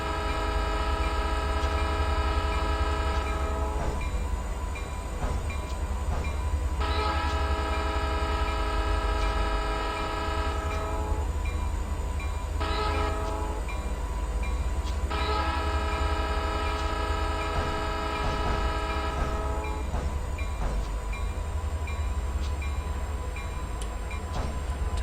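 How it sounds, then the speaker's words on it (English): A locomotive bell rings on an SP SD45 diesel in Train Simulator 2015 at Soldier Summit, sounding in several long, steady stretches with brief breaks, loud over a constant low engine rumble. "Turn that bell off."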